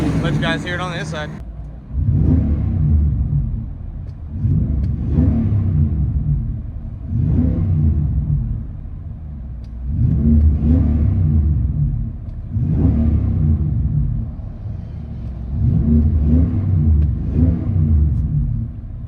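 Heard from inside the cabin, a 2019 Nissan Armada 5.6L V8 with an H-pipe and Magnaflow mufflers revs six or seven times. Each surge is a deep rumbling swell separated by brief idle, and a short bit of talking comes first.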